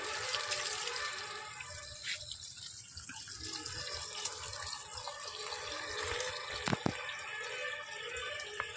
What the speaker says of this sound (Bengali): এই টবটা ভর্তি হয়ে গেছে, জল পড়ছে